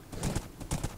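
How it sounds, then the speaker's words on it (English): Horse hooves clip-clopping in the video game Minecraft, two close, short bursts of steady rhythmic steps with no one speaking. "Oh, my horse is here."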